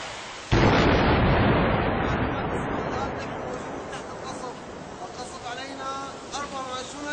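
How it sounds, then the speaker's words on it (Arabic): A single heavy shelling blast in Homs, Syria, booming suddenly and close, then rumbling away as voices and shouting rise in the street afterward. "24 ساعة منذ 19 يوم لن يتوقف القصف علينا، والقصف مستمر."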